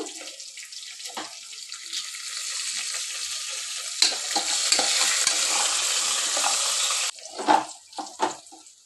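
Dried red chillies and onions fry in a pan with a steady, fairly loud sizzle, broken by scraping stirs and clinks of a spatula, with a louder burst around the middle and choppier stirring near the end.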